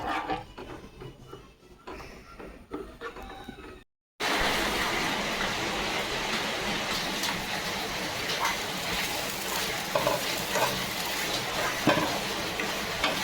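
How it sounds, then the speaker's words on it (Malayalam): Payasam with coconut milk is stirred in a pan, giving a dense bubbling, sloshing sizzle with frequent scraping strokes; a quieter stretch with a brief silence comes first, then a loud steady run with no talking. "മൂന്നാം പാല് ഒഴിച്ചു കൊടുക്കുക എന്നിട്ട് നല്ലോണം ഇളക്കുക"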